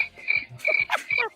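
A cricket sound effect played back on request, giving several short, bright chirping bursts at a steady pulse, close and clear with no talk over it.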